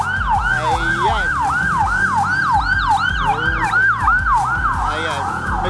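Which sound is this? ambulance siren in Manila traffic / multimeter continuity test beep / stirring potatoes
ambulance siren in Manila traffic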